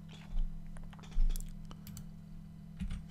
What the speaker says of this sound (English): press F11 or function key number 11 on your keyboard